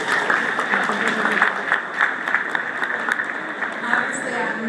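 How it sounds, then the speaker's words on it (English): An awards-event crowd claps for an honoree, with scattered, fairly close applause running under a prominent voice speaking over it. "Please give a round of applause to 2012 Man of Power and Influence, the Reverend Dr. Robert Franklin."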